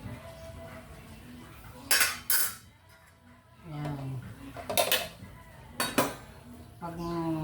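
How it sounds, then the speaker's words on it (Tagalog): Cooking pots and dishes are washed in a kitchen sink, with sharp metallic clanks and clinks in irregular bursts, close by, between quieter stretches of running and scrubbing sounds. "maghuhugas muna tayo mga ladab. Yan. Dito sa ating lababo."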